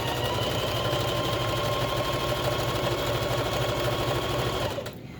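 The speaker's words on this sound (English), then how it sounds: "And if you have a good sewing machine," A sewing machine stitches ribbons onto a skirt in a fast, even mechanical chatter up close, running steadily for several seconds before slowing and stopping.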